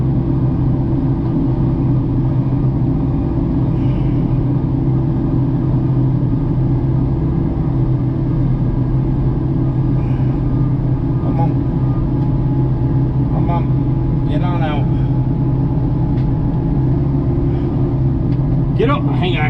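Low, steady diesel engine rumble of an excavator straining to recover a stuck truck, a continuous drone running throughout with brief faint higher noises near the end.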